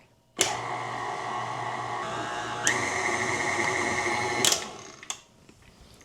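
A stand mixer kneads sticky dough for apple cinnamon sticky buns with a steady, loud motor whir that shifts pitch partway through, then stops near the end with a few light clicks.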